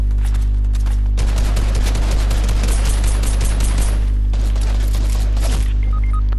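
Heavy, clipping automatic gunfire from the video game Fortnite during a squads match, sustained rapid bursts over a constant low hum, with no voices.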